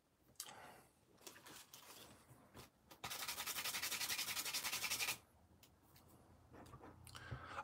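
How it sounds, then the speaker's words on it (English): Hard, forceful rubbing against a surface, a scratchy, sanding-like friction with uneven strokes early on, then a loud sustained two-second stretch of vigorous scrubbing before it eases back into lighter, intermittent rubbing. "I'm rubbing with all of my might."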